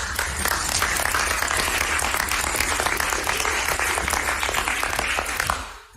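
An audience applauds wrestling champions at a school board meeting: dense, steady clapping from many hands that holds for about six seconds, then drops away sharply at the end.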